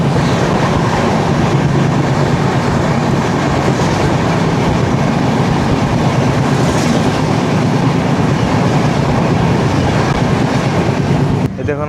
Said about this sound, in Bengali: চলে আসছে train number 1, 2, 3, 4, 6 Guwahati Howrah Saraighat express